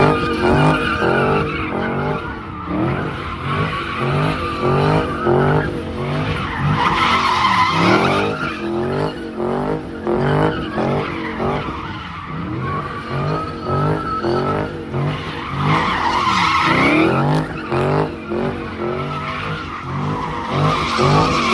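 A wide-body Dodge Charger Scat Pack drifts with its engine revving hard in rapid pulses and tires skidding and squealing almost continuously, a loud, rough, rising and falling roar throughout.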